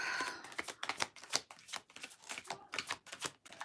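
Tarot cards being shuffled and drawn, with soft rapid riffling and slapping of cards in uneven close bursts, quiet and without talking.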